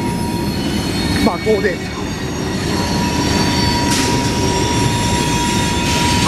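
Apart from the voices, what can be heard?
CSX mixed freight train wheels squealing while turning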